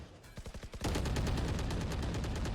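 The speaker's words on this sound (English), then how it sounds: "And now the gunfire starts." Gunfire in the tactical shooter Valorant during a tournament match: a quick burst of separate shots, then a dense, sustained stream of rapid automatic fire, loud and close.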